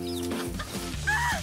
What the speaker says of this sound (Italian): Il gallo ha fame.